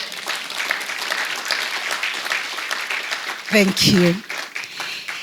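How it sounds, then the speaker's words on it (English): Scattered audience clapping rises during the Chief Justice's keynote address on African arbitration, a loose patter of hands before a voice briefly speaks. "I expected you to clap for that."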